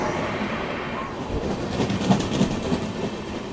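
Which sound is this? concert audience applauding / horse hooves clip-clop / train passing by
train passing by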